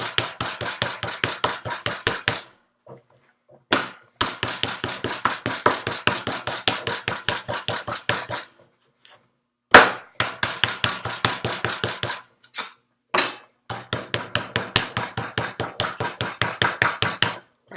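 Rapid bursts of sharp pounding of a clay slab on a ringing metal surface, loud and close, in rhythmic runs broken by short pauses.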